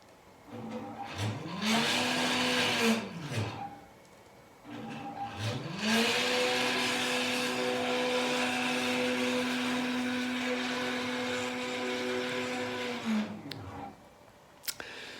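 A homemade CNC machine built from bed rails drives its sled along the axis under stepper motor control, giving two whining runs with rising and falling pitch: a short move, then a longer steady one that slows to a stop.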